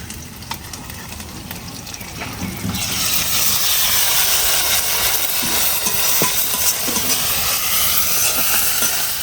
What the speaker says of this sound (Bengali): পেঁয়াজটা হালকা ভেজে এর মধ্যে দিয়ে দিচ্ছি আদা রসুন বাটা